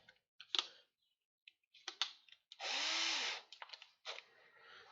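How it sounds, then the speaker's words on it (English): A power drill whirs briefly for about a second, up close, drilling through leather, among scattered clicks and handling noises. "This time I'm going to drill through the leather and everything."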